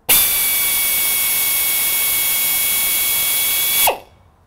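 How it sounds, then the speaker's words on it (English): Power drill boring a hole in a BMW N62 coolant pipe tube, a loud, close, steady high whine held for nearly four seconds before spinning down abruptly. "And then we drill a hole in the tube that we later on use to extract it."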